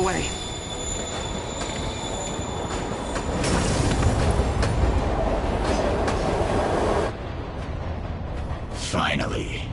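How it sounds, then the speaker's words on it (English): A train rumbles along its tracks in the Marvel's Spider-Man video game, with a steady loud roar, wheel squeal and rattling clatter that swells in the middle and then eases, under game voices. "Train moving."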